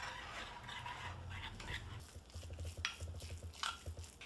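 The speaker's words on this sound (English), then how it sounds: "I'm gonna stir that around." Macadamia nut meal stirred in a bowl, close, quiet scraping and shuffling strokes in an uneven rhythm, with light clinks of the utensil against the bowl.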